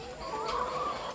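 Laying hens on an egg farm cluck in a short, close burst, a single rising call standing out over a low steady background hum.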